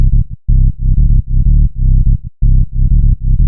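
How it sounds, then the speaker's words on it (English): Soloed tech house sub bass synth patch made in Serum, deep pulsing notes in a chopped, syncopated rhythm with short gaps, loud and dry with nothing else playing. "So this will be your tech house sub. Let me solo it for you."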